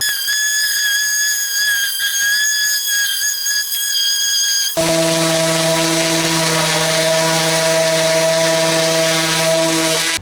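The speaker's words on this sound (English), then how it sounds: "Now just some more sanding." A power sander works a pallet wood mail holder with a steady high whine that drops to a lower, heavier drone partway through as it bears down on the wood, loud and close, with no talk.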